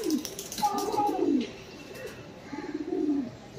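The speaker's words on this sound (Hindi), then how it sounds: "बहुत ही बड़े बड़े साइज़ के कबूतर उड़ते भी है" Large Kalmuhe pigeons being held close give low, throaty coos in a few drawn-out phrases, with someone talking nearby.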